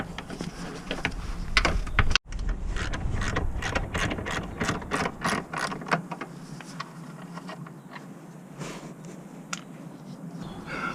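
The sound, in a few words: ratchet with extension and 15mm socket undoing Boxster motor mount bolts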